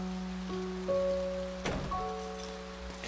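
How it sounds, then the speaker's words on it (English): Steady outdoor rain patters continuously, mixed with faint tonal background sounds and a few light knocks. "You can hear the rain."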